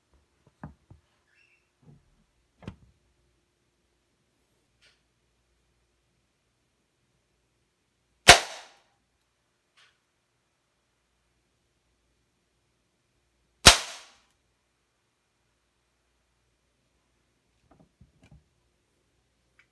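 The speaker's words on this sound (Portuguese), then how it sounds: "Vou posicionar aqui e vou realizar o disparo." An air gun fires pellets at an improvised wooden target from about 10 meters. Two sharp, isolated shots about five seconds apart stand out against near silence, with faint small handling clicks at the start and end.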